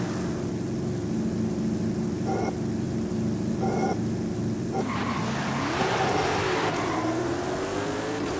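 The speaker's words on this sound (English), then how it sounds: "That car had a great launch, not gonna lie." A race car in the Forza Horizon 5 video game launches with a steady loud engine drone and tire noise, then its pitch sweeps upward as it accelerates hard near the end.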